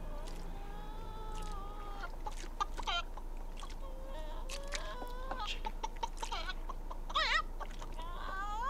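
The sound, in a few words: chicken clucking in the film Return to Oz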